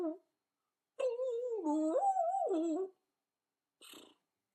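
A voice imitates an imaginary instrument made of string and milk bottles, pulled apart: a short hum, then a wavering, whining tone sliding up and down for about two seconds, and a faint breathy sound after.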